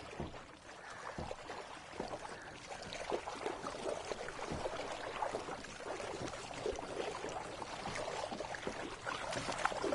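Boat paddling in a video game, a steady run of watery splashes and swishes, moderately faint and continuous, no talk.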